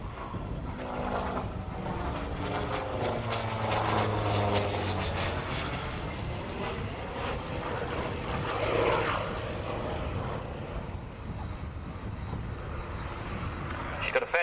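A Hawker Sea Fury's 2,480 horsepower Bristol Centaurus air-cooled radial engine drones steadily as the aircraft flies past at an air day, a rich rising and falling propeller roar mixed with crowd noise and a commentator's voice.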